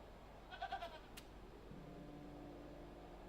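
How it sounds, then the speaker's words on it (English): A goat bleats in the video game Hob's Barrow, a short wavering cry of a few pulses near the start, fairly faint over a steady low background hum, followed by quiet ambience. "Goat. Hello, goat."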